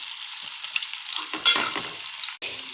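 Chopped onion frying with salt in a pan until soft, a bright close sizzle with a few stirring scrapes and a brief clatter near the end, no voices.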